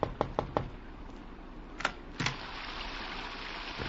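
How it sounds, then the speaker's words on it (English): Knocking on a door in a radio drama adaptation of Great Expectations, set on a rainy London night: a quick series of four sharp raps, a pause, then two more knocks, over steady rain hiss. "I thought it was his knock that I heard on my door."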